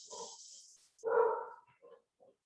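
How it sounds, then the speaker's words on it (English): Household dogs bark and yelp at someone arriving home, a couple of short close barks followed by softer whimpering yips trailing off. "Mike's home, which means the dogs are about to bark."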